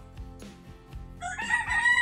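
A rooster crows close by, its cock-a-doodle-doo rising loud and strained over short low bumps and a few faint clucks, in a brief burst set in the Philippines.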